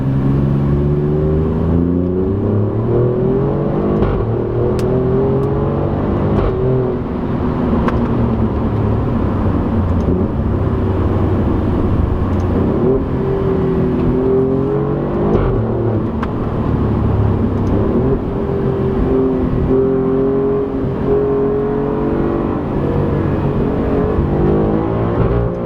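An Alfa Romeo Giulia Quadrifoglio accelerating hard in race mode with traction and stability control off: a loud, continuous engine roar climbs in pitch again and again through the gears, heard close for about 25 seconds.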